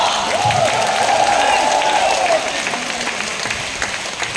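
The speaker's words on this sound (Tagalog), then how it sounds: "Pumalakpak ang lahat ng tupa!" A congregation at a lively worship service applauds together, a sustained, dense roar of clapping from a large crowd close by, with voices and cheering mixed in.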